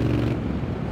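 Motorcycle exhaust roaring through Zard 6 Days slip-on pipes, a steady deep rumble held loud and close for about a second with no breaks.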